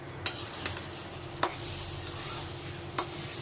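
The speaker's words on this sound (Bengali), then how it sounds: "এখন আমি আলুটা দিয়ে দিব। আলুটা ভালোভাবে কষায় তারপর বেগুন দিব।" Potatoes sautéed in spices for a dried fish curry, a steady sizzle and fry in the pan broken by a few sharp scrapes of a stirring utensil, close and alone.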